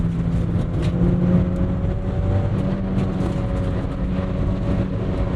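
Engine of a Mazda Miata NC with soft top revving out, a steady droning engine note held at high revs with a faint rise and fall, close and continuous with interior road noise.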